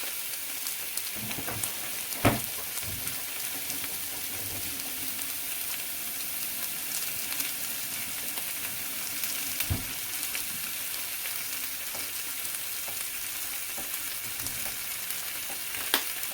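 Shrimp sizzle and fry steadily in a hot pan, a dense continuous crackle with occasional louder pops and stirring knocks, close and without talk.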